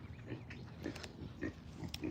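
Pigs grunting up close in a short series of low, rhythmic snorts, loud and with no talk over them.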